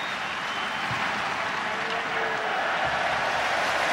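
A rugby crowd at Montpellier applauds and cheers during South Africa vs USA in 2007, a steady, broad wash of distant applause that holds evenly throughout.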